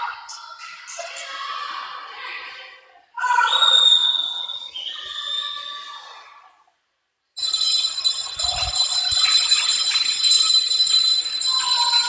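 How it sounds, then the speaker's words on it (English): A bell rings at a swim meet to signal a swimmer's final lap, with bright ringing tones in several bursts separated by a short silence and echoing in an indoor pool setting. "Lincoln Joyner has just taken the bell on his final lap down and back in lane 4."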